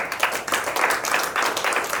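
A crowd at a political get-out-the-vote rally in Albert Lea, Minnesota, applauding and cheering together, a steady wash of clapping with pulsing swells, close and fairly loud.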